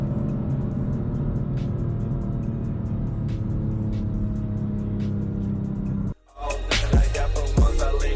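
A BMW S55 engine accelerates in a video game sound mod, with a sustained droning engine note that cuts off suddenly. Brief, louder mechanical bursts follow it.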